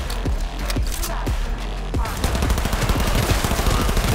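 Point-blank gunfire in Cyberpunk 2077: a few separate loud shots open, then dense rapid automatic fire rattles on close and unbroken to the end.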